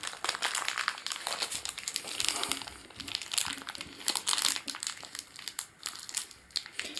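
A knife slices through the plastic shrink-wrap on a Warhammer Shadespire box, producing close, busy crinkling and tearing crackles in irregular bursts with no talking.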